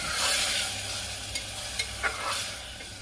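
Ginger, green chilli and tomato paste stirred in a pan for a Bihar-style green peas godla, with a steady hiss of sizzling and a few light spatula scrapes, close and without talk.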